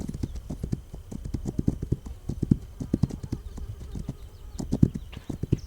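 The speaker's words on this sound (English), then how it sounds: "So shift makes you go fast on the horse or running." Horse hooves gallop in a steady, fast clip-clop rhythm in a video game, close and fairly loud with no talk over them.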